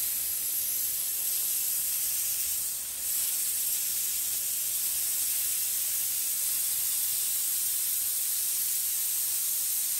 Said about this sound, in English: let's go ahead and turn on all four just to show you how they would spray